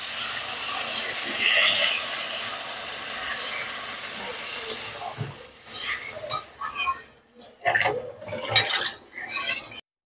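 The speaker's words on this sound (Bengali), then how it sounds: "কষা হয়ে গেছে, জল দিয়ে দিচ্ছি।" Water poured into a hot pan of sautéed catla fish and cauliflower curry sets off a loud, steady hissing sizzle, followed by scattered clinks and scrapes of a utensil against the pan.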